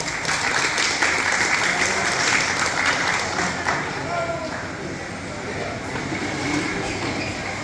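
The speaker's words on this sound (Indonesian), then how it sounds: "Berikan tepukan yang gemuruh." Crowd applause at a Kaamatan harvest festival party gathering in Kampung Moyog, Penampang, a dense, steady wash of clapping across the whole stretch, with a voice over a loudspeaker running underneath.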